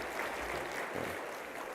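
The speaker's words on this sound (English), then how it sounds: "If we could get a good round of applause for the staff" Brief burst of conference audience applause at DeVos Place, dense clapping at moderate volume with no one speaking.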